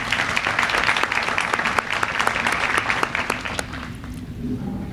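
A ceremony audience at a signing-day event claps together in dense, sustained applause with a few sharp individual claps standing out, staying strong before thinning and softening toward the end.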